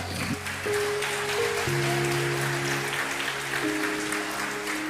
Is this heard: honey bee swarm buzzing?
no